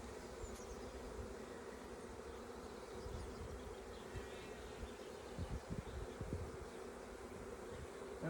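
Honey bees buzz around an open hive during an inspection, a steady soft drone with a few louder passes and faint handling rustles nearby.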